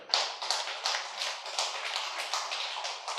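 Loud, continuous applause from a large audience honouring the guru Brahmarshi Patriji at a spiritual talk, dense rapid claps with rhythmic surges, close and steady throughout with no voices.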